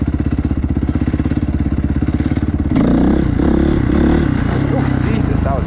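Motorcycle engine thumping in a fast steady pulse, then surging louder and rougher about halfway through as the rider pulls a wheelie, with a rattle of clatter and a voice talking briefly near the end.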